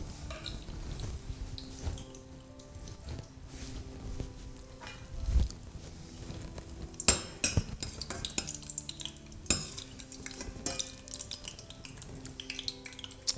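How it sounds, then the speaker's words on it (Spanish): Conger eel fries in a pan for a chickpea dish, a soft continuous sizzle running under scattered clinks and scrapes of utensils against the pan. "Vamos a freír el congrio."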